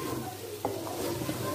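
Liver (kaleji) sizzles steadily in a hot pan while being stirred, with a constant frying hiss and a few soft scraping strokes of the spoon, close and moderately quiet.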